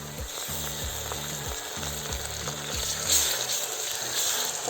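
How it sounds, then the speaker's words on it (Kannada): Ginger garlic paste sizzles steadily in a pan of frying onions for cashew chicken fry, with a constant hiss and regular stirring scrapes underneath, close and fairly loud. "ಶುಂಠಿ ಬೆಳ್ಳುಳ್ಳಿ ಪೇಸ್ಟ್ ಹಾಕ್ತಾಯಿದ್ದೀನಿ"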